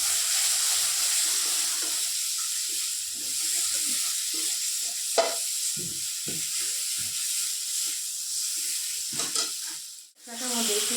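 Spice paste with red chilli sautéing in oil for taki fish curry gives a constant close sizzle, with repeated soft scraping stirs and a short dip near the end.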